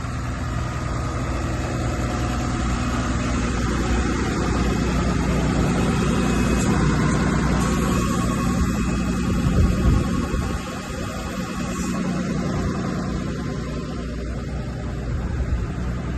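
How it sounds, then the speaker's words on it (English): Hydraulics lift the dump body on a 2019 Freightliner M2 with a 6.7L Cummins and automatic transmission. A steady, loud idling engine hum and pump drone run continuously, with no voices. "We'll go ahead and lift the dump body."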